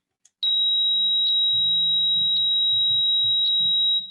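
A high 4000 hertz pure tone used in a lecture demonstration on sound, beginning sharply and ringing steadily and loudly for over three seconds, with faint low background rumble beneath it and no speech.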